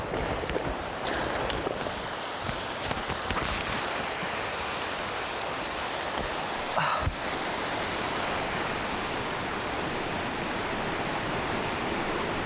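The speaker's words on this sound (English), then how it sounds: "I love the sounds of bubbling brooks and gentle streams" A mountain stream flows on the slopes around Scafell Pike, a continuous broadband rush of water that stays steady and fairly loud with no voices, apart from one brief bump in the middle.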